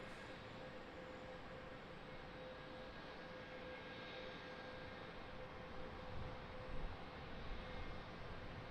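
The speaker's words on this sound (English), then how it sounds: "Little double landing action." An airplane comes in to land at Charlotte airport, heard as a steady broad roar of engine and wind noise that swells slightly toward the end, distant and continuous with no talk.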